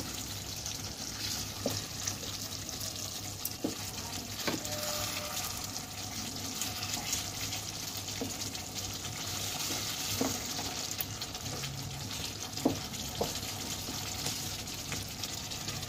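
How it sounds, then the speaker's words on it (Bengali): Chicken chaap cooks in a covered pot while the lid is lifted and the pieces are stirred and turned, with a continuous wet bubbling hiss broken by soft clinks and scrapes. "এইভাবে মাঝে মাঝে আমি ঢাকনাটা তুলে চিকেনগুলোকে একটু এপিট ওপিট করে নেড়ে নেব।"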